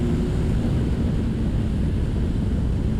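A Kawasaki Ninja 1000 SX motorcycle engine roars steadily under hard acceleration, a dense, low rumble blended with heavy wind buffeting, continuous and close with no voices.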